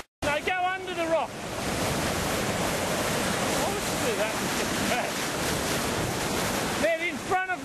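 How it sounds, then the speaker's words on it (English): Rough sea surf breaks and churns around rocks during lobster potting, a loud continuous roar of crashing water and spray with wind buffeting the microphone, and brief voices at the start and end. "She's getting knocked around by these waves."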